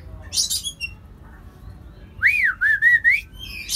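A young black-capped lory parrot calls close by with sharp squawks and rising, sliding whistles in short bursts separated by quiet gaps.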